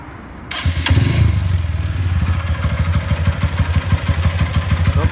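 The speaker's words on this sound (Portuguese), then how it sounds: "vou mostrar um pouquinho para vocês o funcionamento da moto" Honda Titan 150 motorcycle engine fires up after a brief crank, then settles into a steady, close, loud idle with a regular low thumping pulse and light mechanical clatter.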